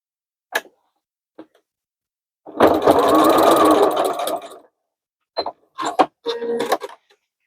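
A sewing machine bastes a handle onto a denim tote bag: a couple of faint ticks, then a steady two-second stitching run, followed by several short bursts of stitching.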